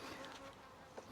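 Honey bees buzz close by at the top of a hive in a steady, faint drone with a slight rise at the end.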